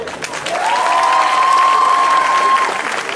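A crowd at a cosplay parade claps and cheers loudly, with a sustained whistle rising over the steady applause for most of the stretch.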